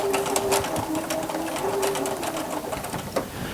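A sewing machine stitches through a duffle bag, its needle chattering in a steady rapid rhythm close by, with a faint tonal hum running underneath.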